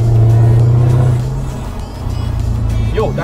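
Cars driving past on a climbing road, a loud engine drone that fades, then another vehicle approaching, heard from inside an open convertible.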